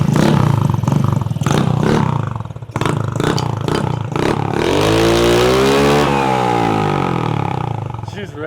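A scooter engine with a freshly fitted carburetor fires up and revs, its pitch sweeping upward then settling into a loud, steady roar, with loud talking and clatter over the first few seconds.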